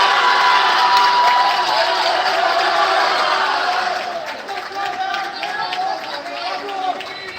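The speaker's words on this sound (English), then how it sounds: "The crowd really enjoyed that one" Crowd cheering loudly after a rally at a men's squash final, a dense roar of shouts and clapping that swells, then eases into scattered applause as a commentator talks.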